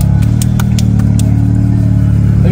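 A car's engine runs steadily at close range with a low, even drone while the vehicle is moved out of a parked spot, with a few faint clicks above it.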